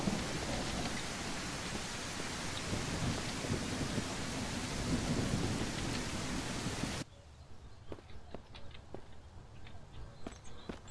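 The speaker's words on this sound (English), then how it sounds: "Of course it is raining." Heavy rain roars with rumbling thunder in the game Mist Survival, then abruptly cuts to a much quieter scene with scattered drips and light taps.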